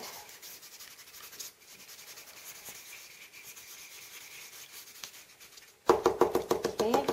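Distress stain ink dabbed over a die-cut paper shape, soft rubbing and scuffing through most of the span, then a burst of louder rapid dabbing taps near the end.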